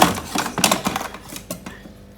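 A spoon crushing betta fish food, a quick run of sharp scraping and tapping clicks, close and irregular, fading out after about two seconds.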